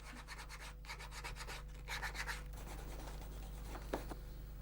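A handmade leather shoe sole being smoothed with glass and sandpaper gives steady, rapid scraping and rubbing strokes, rhythmic and close, over a constant low electrical hum.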